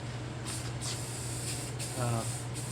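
A spray paint can hisses steadily in short pulses while coating parts of an old go-kart, with a person speaking briefly over the spray.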